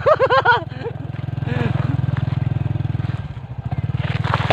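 A motorcycle engine chugs steadily in a low, even pulse beneath a voice that speaks briefly at the start, then runs alone, near and fairly loud throughout.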